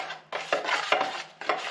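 A drywall knife working joint compound in a mud pan for smoothing wall repairs, giving scraping, slapping strokes in a loose rhythm of about four passes, close and fairly quiet with no talking.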